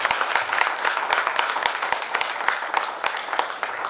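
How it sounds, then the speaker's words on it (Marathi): Audience applause fills a school annual gathering: dense, steady clapping from many hands, loud and continuous for the whole stretch. "आणि म्हणूनच एकदा जोरदार टाळ्या आपल्या सर्व गुरुजनांसाठी झाल्या."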